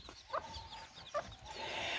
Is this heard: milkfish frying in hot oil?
no